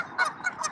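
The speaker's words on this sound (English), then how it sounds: "A couple geese looking at me like, what do you think you're doing walking up here?" A few geese honking nearby on a riverside trail in Portland, three short nasal honks spaced across under a second, fairly close and distinct.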